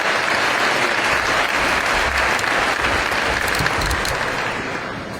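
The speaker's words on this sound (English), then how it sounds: "I think that's worth another round of applause." A large audience gives a sustained round of applause at a school district event, loud dense clapping that holds steady for several seconds before easing slightly toward the end.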